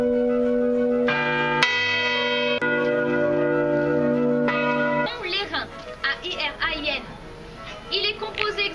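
A bronze church bell cast of 78% copper and 22% tin rings with loud, sustained harmonic strikes, several overlapping tolls for about five seconds, then its resonance fades under children's voices and chatter.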